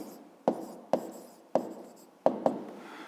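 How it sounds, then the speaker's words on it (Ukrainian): A pen writes an answer by hand on paper in five distinct, close strokes spaced about half a second apart, each a short scratchy tap fading quickly, with quiet pauses between. "Пишемо відповідь."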